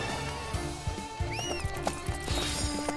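A horse in Samurai Warriors 5 gives a short rising-and-falling whinny midway through, over a steady game soundscape with clip-clop hoofbeats and thuds throughout.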